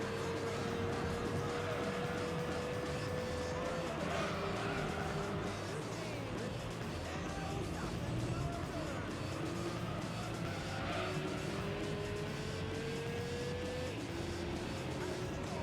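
Engine of a Volkswagen Beetle RSi in the video game Gran Turismo 3, a continuous revving drone with rising gear-change whines and some tire noise, steady and loud throughout.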